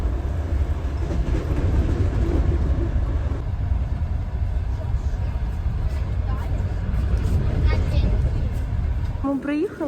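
A train compartment rolls along on a trip to Uzhhorod, the carriage giving a steady, close rumble throughout, with people talking over it.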